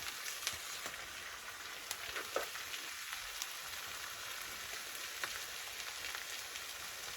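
Peppers fry in a pan with a steady, dense sizzle. Scattered small pops and crackles break through it, and no one speaks.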